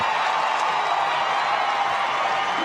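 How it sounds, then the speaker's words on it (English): A large arena crowd at the CrossFit Invitational keeps up a continuous, steady roar of cheering, dense and even from start to finish with no distinct voices standing out. "And the crowd absolutely loving that one."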